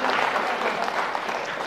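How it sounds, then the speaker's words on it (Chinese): Audience clapping at a Deyun Society crosstalk show fills the whole short stretch, a steady dense patter of many hands, loud and even with no pause. "你看鼓掌的都是了解三哥的人"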